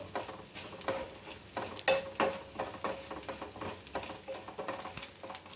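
Grated coconut roasts in a pan with fenugreek seeds and curry leaves, giving a continuous crackling sizzle broken by rhythmic scraping stirs, close and moderately loud, with no one talking.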